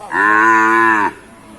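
A single long, loud moo from a cow rings out close by at a northern Thai cattle and buffalo market in Nan province, holding steady for about a second before fading into faint background noise.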